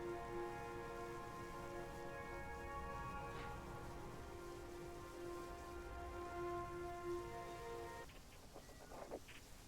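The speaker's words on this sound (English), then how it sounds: "it's pishing with rain again" Heavy rain in the space-program strategy game Mars Horizon, a steady dense hiss held at close range under a layer of sustained game music tones, with a few faint clicks near the end.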